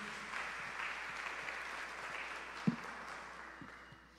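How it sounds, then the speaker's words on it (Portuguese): Congregation applauding during a live evangelical church service, a steady, fairly faint wash of clapping that carries on throughout, with one sharper nearby clap standing out. "Aplauda o Senhor Jesus Cristo."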